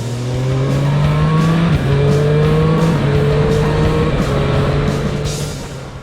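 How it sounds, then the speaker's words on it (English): Triumph Street Triple 765 motorcycle engine revving loudly nearby, a sustained high-pitched whine that steps through rev changes and drops slightly, then fades a little toward the end. "this is an engine that loves to be revved"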